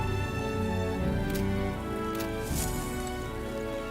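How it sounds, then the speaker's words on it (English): Rain falling in the video game Metaphor: ReFantazio, a steady patter under a layer of sustained game music, fairly loud and even throughout. "Oh, I hate the rain."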